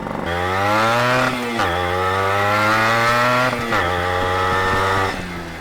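A motorcycle with a calculated chamber exhaust revs hard up close, a loud buzzing two-stroke-style note that climbs through repeated gear-like rises with brief dips between pulls, no talking.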